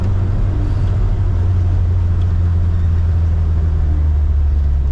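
A lifted Suzuki Samurai with the stock 1.3L engine and 33-inch tires cruising on the highway, heard from inside as a loud, constant low engine drone mixed with road rumble and no change in pace.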